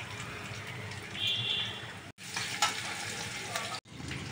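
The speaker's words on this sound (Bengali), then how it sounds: "অল্প কাটা পেঁয়াজ রেখেছিলাম ওইগুলো তেলের উপরে দিয়ে দিলাম" Chopped onions frying in oil give a steady, close hiss and crackle with a few sharper pops, broken by two brief silent gaps.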